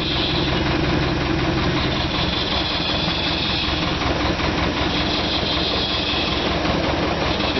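JCB backhoe diesel engine idling near a garage, a steady low rumble with faint knocking that holds evenly throughout with no talk.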